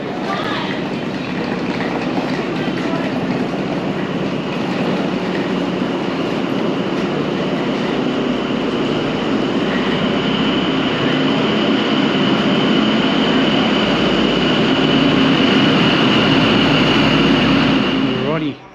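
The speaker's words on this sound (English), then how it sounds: "There goes the train" A train departing Wagga Wagga, Australia rumbles steadily past, loud and continuous, with a sustained rolling drone that swells slightly toward the end before cutting off.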